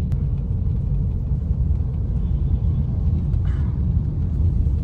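Steady low rumble of traffic in a provincial Philippine city street, heard from inside a moving car, with continuous road and engine noise and no talk.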